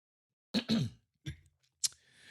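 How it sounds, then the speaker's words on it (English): A few short throat-clearing rasps close to the mic, two grouped together then another after a pause, followed by a sharp breathy noise. "One moment, I'm going to clear my throat here."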